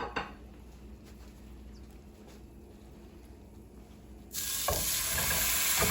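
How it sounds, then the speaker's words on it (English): A seasoned pork chop hits a very hot cast iron skillet. After a quiet stretch with a small knock, a sudden loud, sustained sizzle bursts in and holds to the end. "we want to take our pork chop that we've already seasoned, we've already got ready to go, and we're going to drop it in this really hot pan"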